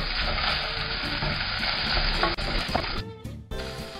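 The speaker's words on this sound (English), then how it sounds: "Give that a whisk round just to heat the tomato puree through." Tomato puree being whisked round a hot pan for crab bisque gives a steady, loud sizzle and scraping stir that thins out in the last second with brief gaps.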